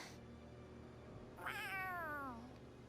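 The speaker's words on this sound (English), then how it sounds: "The cat? Where'd it come from?" A cat in the video game Tales of Arise gives one drawn-out meow, starting abruptly and sliding down in pitch over about a second, close and clear over a steady low game ambience.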